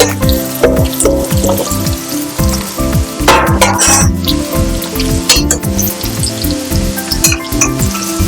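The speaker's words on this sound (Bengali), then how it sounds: "এবার আমি ভালো করে কষিয়ে নেব, যাতে সব দিকে উপকরণগুলো লেগে যায়।" Fried jackfruit, potatoes and prawns tossed together in a hot pan, a loud continuous sizzle broken by repeated spatula scrapes and metallic clinks, close up and without speech.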